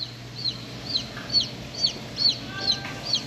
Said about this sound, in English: I said, "I hear something chirping."